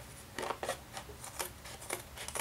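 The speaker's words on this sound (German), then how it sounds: "Und jetzt könnt ihr das Ganze einfach wieder ausschneiden. Dazu braucht ihr keine spezielle Schere." Ordinary sharp scissors cutting through a sheet of Worbla thermoplastic, a series of crisp snipping cuts in an irregular rhythm, close and fairly quiet against a steady low background hiss.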